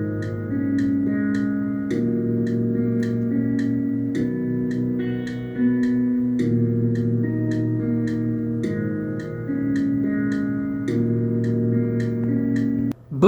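Clean guitar part played on a bright humbucker pickup through a Vox AC15 amp: chiming chords changing every couple of seconds over a steady ticking pulse, sustained and even, with no voices.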